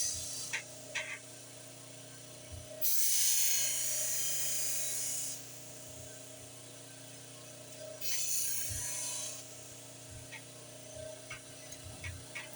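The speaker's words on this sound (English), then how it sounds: "So you just grind the side you want it on." Rotary tool grinding the side of a jewelry piece in two separate bursts of bright, high-pitched whirring, each lasting a few seconds, with quiet ticking and handling noises between them.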